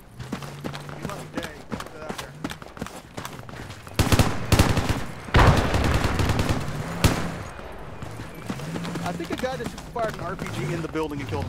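Gunfire and RPG fire in the video game Project Reality, with bursts of shots and heavy blasts around the middle, while voices talk throughout.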